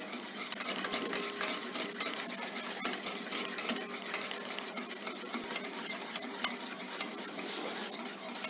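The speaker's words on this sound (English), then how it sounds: "Continuous thin film can be added while you are continuously whisking." Egg yolk and oil are whisked for mayonnaise, a continuous brisk scraping and clicking of a whisk against a bowl, steady and close, with no voices.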